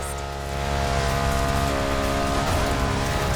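BMW R1200 GS motorcycle ridden off-road in The Crew Motorfest, a steady engine drone with harmonic whine that swells slightly after the start and holds loud and close throughout, with no talk.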